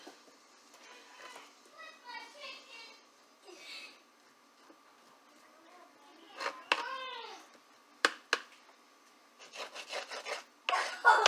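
A knife cutting chicken into small pieces makes soft, quiet rubbing and sawing scrapes in irregular bursts. Children's voices come and go in the background.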